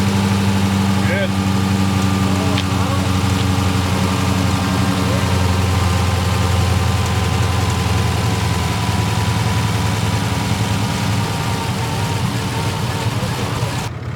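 A 2018 Dodge Charger Hellcat with no throttle response idles after starting, a loud, steady low engine drone that runs throughout with an even rumble and faint background noise.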